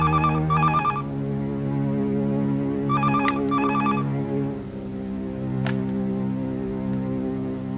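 A telephone rings in short double bursts, two pairs of trills separated by a pause, over a steady low hum of background music.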